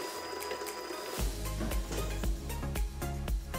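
A stand mixer kneads brioche dough for Alsatian manala in a bowl, setting up a steady mechanical whir with rhythmic thumping as the dough slaps the bowl sides, beginning abruptly after a moment of quieter hum.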